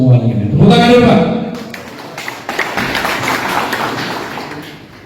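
An audience claps at a community event in Cimanggis, a dense patter of hands that follows a brief loud voice at the start and tapers off over several seconds.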